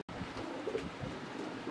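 Racer pigeons of Johnson bloodline coo in a loft, a low steady murmur of several birds nearby with a faint brighter note midway and no voices.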